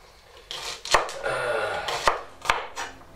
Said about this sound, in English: we're going to do very thin cuts with the 3 stalks of celery